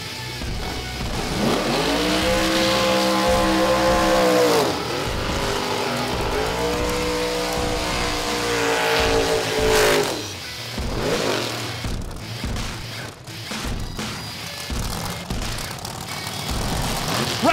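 Drag race cars idle and rev at Atco Dragway, including a 498-cubic-inch nitrous-fed car purging its nitrous and a 700-cubic-inch car. Loud rumbling engines rise and fall in pitch, then give way to bursts of revving and harsh mechanical noise.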